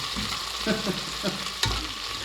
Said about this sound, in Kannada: ಈ ಥರ ಅಲ್ಲಾಡಿಸ್ಬೇಕು ಸ್ವಲ್ಪ ಕೆಂಪುಗಾಗಬೇಕು